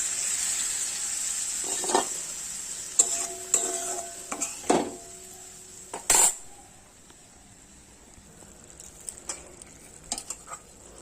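Pabda fish curry cooking in a pan after water goes in, with a soft sizzle under scattered clinks and scrapes of a utensil stirring against the metal, including a sharp clatter midway.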